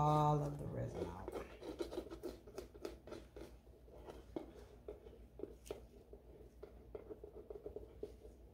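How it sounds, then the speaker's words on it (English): Leftover cured resin is scraped out of mold cups, making quiet, close, irregular bursts of short scratching strokes, with one louder thump at the start. "And I will be scraping all the rest of the cups."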